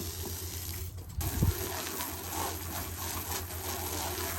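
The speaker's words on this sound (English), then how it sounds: "And then you just rinse" Rinse water gushing over a wooden deck after a cleaning product at an outdoor farm festival demonstration, a steady broadband wash with a brief louder splash near the start, no talking.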